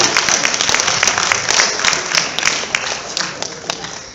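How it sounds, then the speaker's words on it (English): A large after-prom audience gives a loud, sustained round of applause, dense overlapping claps with sharp individual hits rising above a crowd wash, voices mixed in throughout. "Give them a huge round of applause."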